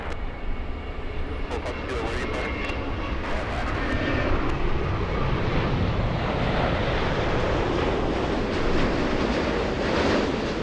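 A Lufthansa Boeing 747 airliner takes off at LAX, its jet engines producing a broad, loud roar that builds and holds steady with a growing low rumble.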